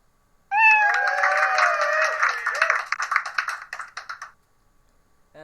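A single cartoon-like cat meow from the Scratch sound library: a close, clear, drawn-out mew lasting several seconds that breaks into a choppy, stuttering tail before fading, with nothing else heard.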